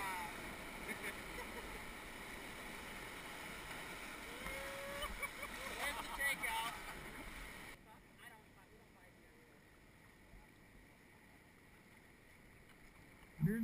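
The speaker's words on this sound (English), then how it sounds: "Okay, I'll back paddle." Kayak being back-paddled on the Middle Fork American River, soft water swishes and splashes under steady river rush, with people talking nearby.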